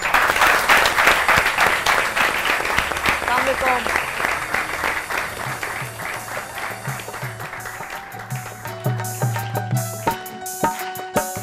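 Audience applause at a television weekend show greets the grandsons of Ustad Amanat Ali, a dense clapping wash that thins out as music and a voice come in beneath it.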